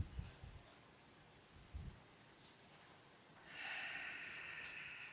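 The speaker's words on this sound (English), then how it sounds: "Take a deep breath out through the nose." Soft breath pushed out through the nose during a beginner yoga session, with a couple of faint low puffs early on and then a longer, quiet, airy exhale toward the end, close and gentle.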